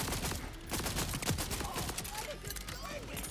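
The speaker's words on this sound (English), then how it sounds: "This is like a burst fire SMG." Short bursts from a burst-fire SMG in Borderlands 4 crackle in quick clusters throughout, loud and close, mixed with other game noise.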